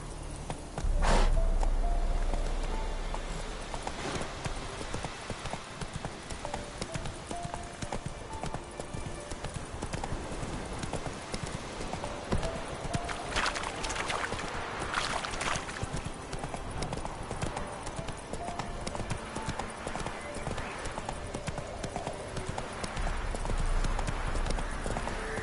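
Hooves of Roach, Geralt's horse in The Witcher 3, clip-clop steadily at a walk across the ground, close and continuous, with faint game ambience behind.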